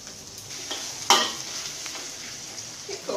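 Abacus seeds drop into a pan of tofu frying until golden, giving a brief sharp sizzle burst over a steady low frying hiss, with faint stirring clatter.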